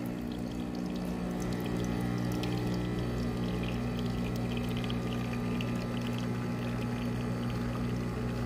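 A double shot of espresso streams from an Ultima Cosa espresso machine, a steady trickle of liquid over the machine's constant low pump hum, close and continuous without speech.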